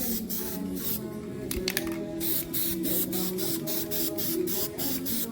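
Spray paint hisses onto a truck mirror in a steady run of short, close, rhythmic bursts with brief gaps between them, heard alone without talk.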